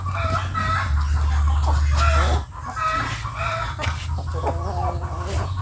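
Several chickens cluck and squawk close by, with a low steady hum underneath and brief bursts of busy farmyard clatter.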